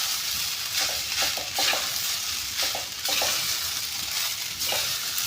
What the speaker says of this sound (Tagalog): Ngayon lang ay haluin natin muna, baka masunog sa ilalim.